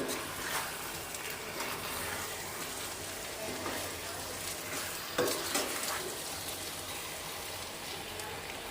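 Chicken frying in a pan on a low flame, a steady soft sizzle with scraping strokes as it is mixed, fairly quiet and close.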